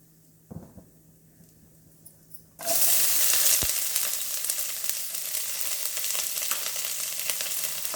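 Appalam dropped into hot oil: after a quiet start with a small clatter, a sudden loud burst of frying sizzle erupts and keeps crackling steadily to the end.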